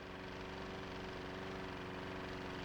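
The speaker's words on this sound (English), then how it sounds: "Hey, Charlie, don't leave that mower running unattended." A lawn mower engine runs steadily at idle close by, a continuous low droning hum with no talk over it.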